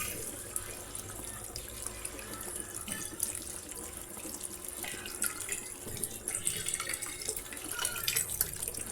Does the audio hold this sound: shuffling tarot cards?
no